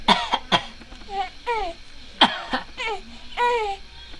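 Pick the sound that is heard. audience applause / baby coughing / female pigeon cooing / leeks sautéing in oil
baby coughing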